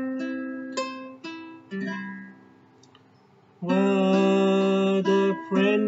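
A ukulele fingerpicks the hymn What A Friend We Have In Jesus, with each chord plucked twice. A few light picked notes are followed by fuller, louder chord plucks, close and clear, with no voice.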